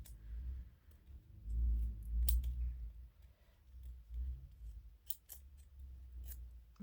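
Scissors snipping through tape to halve it, a few quiet sharp clicks and cuts scattered over low background rumble, close and faint.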